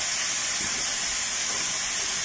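Food sizzles in a hot oiled pan while spaghetti with prawns, courgettes and sun-dried tomatoes is cooked, a steady close hiss that stays even and unbroken throughout with no talking.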